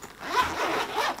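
A zipper on a Kiesel-branded guitar case for a Jason Becker Osiris headless electric guitar is pulled open, a close, loud rasping zip of about a second in two quick strokes.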